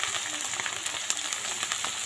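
Rooster meat dropped into a hot pan of fried onion and crushed garlic, giving a steady, close sizzle and crackle with small pops and no talk.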